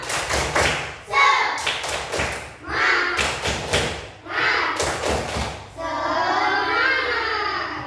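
Primary-school pupils perform a rhythmic spirit clap routine in class, grouped bursts of loud, fairly close claps and thumps in a set pattern, with children chanting along between and after the beats.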